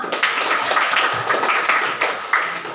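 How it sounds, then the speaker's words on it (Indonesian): A classroom audience gives a short, dense burst of hand clapping, close and steady for a few seconds with no voices over it. "Beri tepuk tangan dulu."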